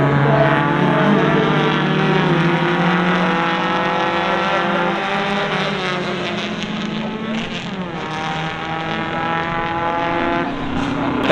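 Racing car engine roaring steadily and loudly throughout, its tone rising and falling with throttle, with an uneven, stuttering misfire under the firing.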